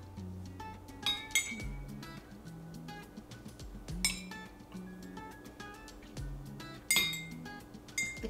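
A spoon stirs coloured liquid in a glass, giving repeated bright clinks and taps against the glass in an uneven rhythm. The sound is close and fairly quiet, with no talking.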